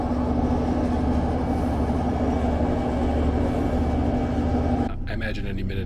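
Steady mechanical whine and low rumble of heavy lifting machinery lowering a Soviet-era Friendship Train carriage in Moldova, continuous and close, cutting off abruptly near the end.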